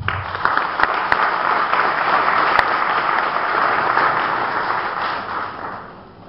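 Steady applause from an audience inside a reopened cine-theatre, a dense continuous wash of many hands clapping that fades slightly toward the end, with no voices on top.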